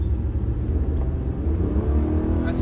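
A car accelerating hard in second gear, capable of 0 to 100 km/h in about seven seconds, its engine rumbling low and steady with a continuous pulling drone throughout, heard close from inside the cabin.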